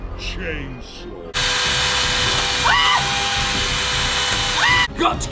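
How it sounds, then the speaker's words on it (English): A chainsaw starts suddenly and buzzes loud and steady while cutting a diamond play button. Voices cry out over the roar before it cuts off near the end. "Final weapon, chainsaw."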